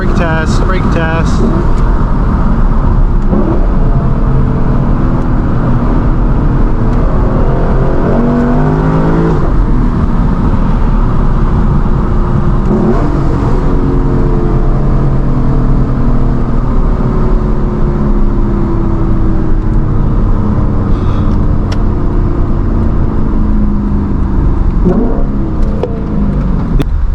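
A Lexus LC 500 with its V8 heard from inside while driving, the engine loud and steady throughout with rising and falling revs and several gear changes.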